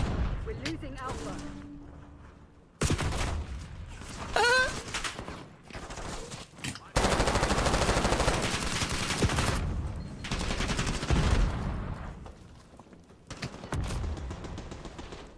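Shotgun blasts in a multiplayer shooter game, dense bursts of gunfire with sharp reports and long noisy stretches, layered with other game effects and heard up close.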